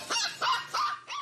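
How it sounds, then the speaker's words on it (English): A puppy trapped beneath heavy concrete gives four rapid, high-pitched barks and yips in an even rhythm, each short and sharp, slightly muffled but fairly close. "the high-pitched barking seems closer"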